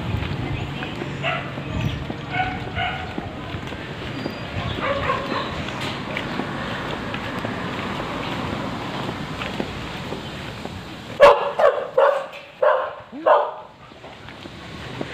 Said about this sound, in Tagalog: Malaking aso.